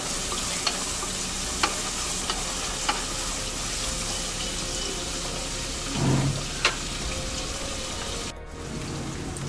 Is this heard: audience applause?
no